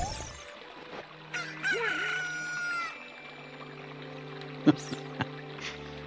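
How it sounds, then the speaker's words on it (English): A rooster crows in the video game Zelda Ocarina of Time, a drawn-out crow over a quiet humming game background, followed by a few short clucking pops. "apparently a chicken"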